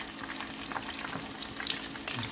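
Flour-dusted fish sizzles steadily as it fries in hot oil, a continuous close crackle and spatter throughout with no talking.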